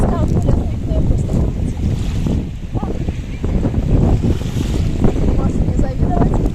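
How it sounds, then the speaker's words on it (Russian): Strong wind on a beach in Antalya beside the sea, a loud continuous roar buffeting the microphone, with surf rumbling underneath. "Ветер очень сильный. Вы, наверное, слышите."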